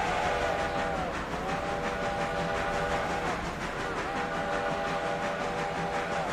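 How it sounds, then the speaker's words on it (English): A train whistle wavers and slides in pitch in a long, continuous shriek that dips and recovers twice, loud and close over steady rail noise. "Love the way the whistle freaks out sometimes."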